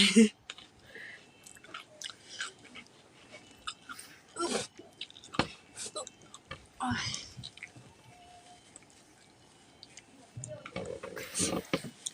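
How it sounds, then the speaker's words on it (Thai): A cat chews food up close, with soft irregular bursts of wet crunching and clicking. Faint murmured voices sit underneath. "เสียงน้องเหมียวเคี้ยวอร่อยมาก"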